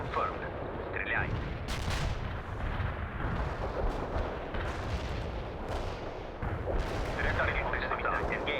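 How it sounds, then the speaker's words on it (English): An artillery barrage in the World in Conflict strategy game, with a dense, continuous rumble of heavy shelling and scattered sharper blasts, close and loud, while radio voices talk over it. "Our barrage hit the target."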